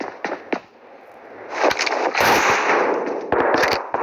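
Gunfire in a ranked-match shooting video game, a shotgun among the weapons, sounds as a burst of sharp shots followed by sustained loud rapid firing with brief gaps, close and dominant, with no talking.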